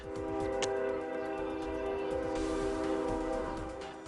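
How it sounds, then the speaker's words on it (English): A freight train on tracks beside a squatted community in Mexico, its horn sounding as a steady loud chord over continuous rumbling wheel and rail noise, close by and without speech. "next to the freight train tracks known by migrants as the Beast"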